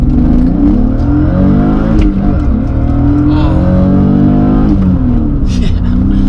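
BMW engine revving hard through quick gear shifts, loud and close, the pitch climbing and dropping at each shift, with a voice talking over it.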